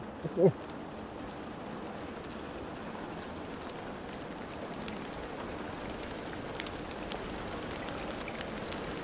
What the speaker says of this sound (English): Ah, beautiful rain sounds.